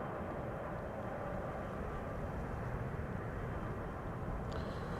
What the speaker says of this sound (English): EasyJet arrived from Edinburgh in the background.